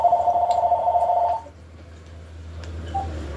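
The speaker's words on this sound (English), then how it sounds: "That's my house phone is ringing." A landline house phone rings with a short electronic warbling tone for over a second, then stops, leaving quiet room noise.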